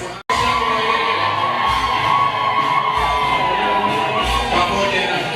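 Wedding guests celebrating a soldier's marriage, a loud crowd of high-pitched ululation, whoops and cheering sustained throughout after a brief cut at the start, close and dense.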